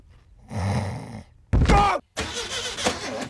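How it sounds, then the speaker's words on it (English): Cartoon car engine from The Simpsons cranking and starting, a rough sputtering turnover followed by a loud roaring catch and a groaning rev, with a cartoon voice mixed in. "You start a car as well as you start a family."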